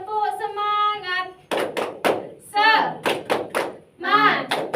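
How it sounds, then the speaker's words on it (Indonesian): A primary-school class in a micro-teaching science lesson stands and does a rhythmic cheer clap, sharp hand claps landing in quick patterned bursts between loud chanted voices. "Ayo kita tepuk semangat bersama-sama."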